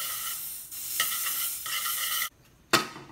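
Margarine going into a hot pan for hotcakes, a bright crackling sizzle that runs in bursts, drops out briefly, then flares up again.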